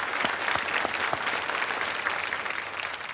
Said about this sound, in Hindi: तालियां एक बार फिर बज जाएं इनके लिए।